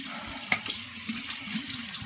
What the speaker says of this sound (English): I'm gonna jump back in the shower and finish it up